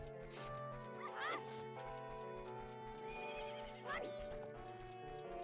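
Two horse neighs from the Zelda Majora's Mask video game, sounding over steady game music, with rhythmic clip-clop hoofbeats underneath; each whinny is loud and close.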